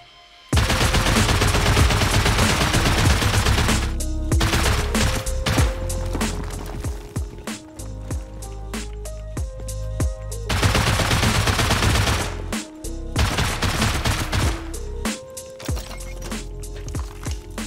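Sustained automatic gunfire with explosive ammo in the video game Rust comes as loud rapid bursts of shots. Short pauses split the bursts, and the near barrage has no talk over it.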